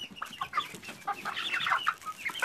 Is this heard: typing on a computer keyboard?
no